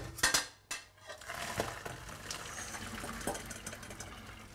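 Pasta being drained through a chinois strainer in a kitchen, with metal utensils clinking and knocking sharply at first, followed by a steady soft wash of running water and liquid trickling through the mesh.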